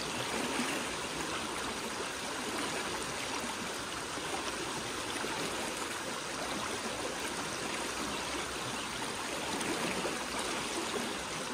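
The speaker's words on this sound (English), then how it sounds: "So here's the creek behind me." Creek water flowing, a steady broadband rushing and trickle that holds constant and fairly close throughout with no talking.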